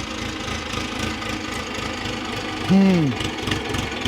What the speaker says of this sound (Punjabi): ਜਦੋਂ ਉਹ ਟਰੈਕਟਰ ਲੰਘ ਜਾਣ ਦੇ ਆਪਾਂ ਕਰਦੇ ਆਂ